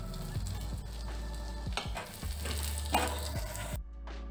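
Dried chillies, whole cumin, asafoetida and ginger sizzle in hot fat for a masoor dal tadka, a steady close crackle with a few light clinks of stirring, fading abruptly near the end.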